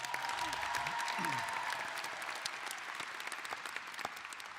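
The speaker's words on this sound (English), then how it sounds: "let's give her a big round of applause" Audience at a School of Education graduation ceremony applauding in a sustained, even round of clapping that fades slightly toward the end, with a brief voice at the start.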